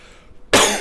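A single loud, sharp cough bursts in after a quiet moment, close to the microphone.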